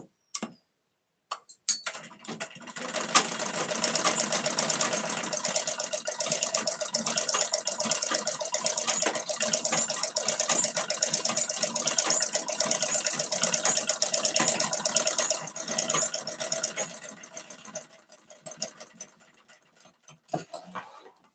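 A sewing machine stitches in one long continuous run, a rapid, even mechanical ticking that starts after a few stray clicks, holds steady for over ten seconds, then slows and stops near the end.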